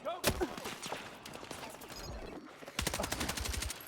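A video game shooter fires rapid bursts of gunfire, including an opening shot and a quick automatic volley near the end, with speech mixed in throughout at a low overall level.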